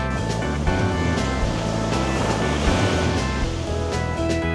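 Strong ocean surf at San Juan beach, La Union, a well-known surfing spot, rolls as a continuous, dense wash of breaking waves with a faint tonal layer underneath.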